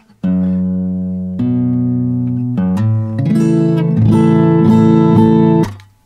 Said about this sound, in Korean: 지금 버징 나는 소리는 튜너이기 때문에 튜너를 잠깐 빼겠습니다.